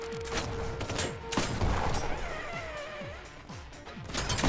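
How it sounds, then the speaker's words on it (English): Loud, dense video-game combat fills the scene, with a big grenade blast and crash amid rapid repeated gunfire and booming impacts that carry throughout. "Did you just get fragged by your own grenade?"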